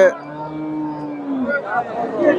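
Dairy cows at a cattle market moo, one long, loud low call sustained for over a second and then fading into a busy murmur of more distant lowing and crowd noise.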